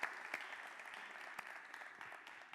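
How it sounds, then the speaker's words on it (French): A small audience claps for an association coordinator at a high school awards event, fairly quiet and steady applause with a few sharper individual claps standing out. "je voudrais qu'on applaudisse très très fort pour lui"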